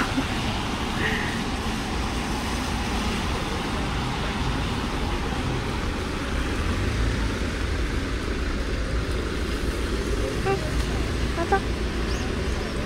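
Street traffic in Korea, with a steady low rumble of cars and other vehicles passing nearby for the whole stretch and faint voices now and then.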